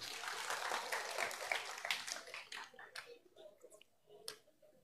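Audience applause at a Catholic religious gathering, a brief patter of clapping that thins out and fades over a few seconds, moderately faint with a voice faintly heard.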